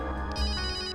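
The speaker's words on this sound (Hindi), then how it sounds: "फोन तो इस बैग में से बज रहा है," Mobile phone ringtone sounding from inside a bag in a crime drama scene, a steady, continuous melodic tone that fills the short moment with no voices.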